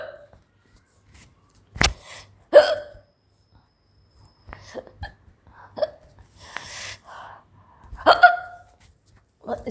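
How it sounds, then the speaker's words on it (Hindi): Hiccups mixed with burps from a woman during a black pepper hiccup challenge, several sharp isolated gulps spaced irregularly and close to the microphone, with soft voiced sounds between them. "ऐसा डकार और हिचकी मिक्स हो जाती है कभी कभी।"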